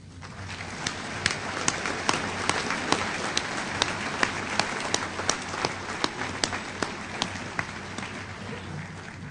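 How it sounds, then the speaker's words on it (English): Audience applause at a Naval Postgraduate School graduation ceremony, a steady patter of many hands in a large hall with a few sharper, louder claps standing out in a fairly regular rhythm, continuing throughout with no speech. "I'm going to ask that you try and hold your applause"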